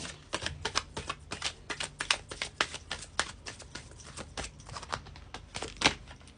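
Oracle cards being shuffled by hand, a dense run of crisp riffling snaps and flicks in quick irregular bursts, close and clear with no talking.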